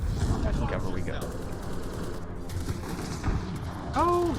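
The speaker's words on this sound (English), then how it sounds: "Enemy fire." Enemy gunfire in Mass Effect Andromeda multiplayer, repeated bursts of shots and impacts under a continuous game soundscape, with a tonal electronic cue near the end.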